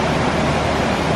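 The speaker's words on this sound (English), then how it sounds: "Raging river, sad face." A raging river swollen after heavy rain in the Great Smoky Mountains of Tennessee rushes with a constant, dense roar of water, loud and close, with no voices.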